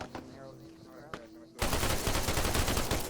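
Arma 3 gunfire erupts as a loud, sustained burst of rapid automatic shots that dominates after a quieter opening with faint background sounds.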